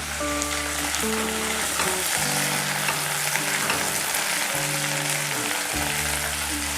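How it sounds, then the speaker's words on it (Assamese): Peas and cauliflower fry in hot oil with a loud, steady, crackling sizzle that never lets up, and no voices over it. "এই মটৰখিনি অকণমান ফ্ৰাই কৰি মই এইখিনি উঠাই ল'ম।"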